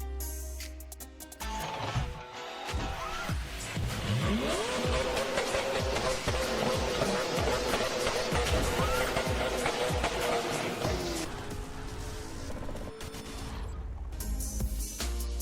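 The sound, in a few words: cars driving and crashing in Car Crash Racing mobile video game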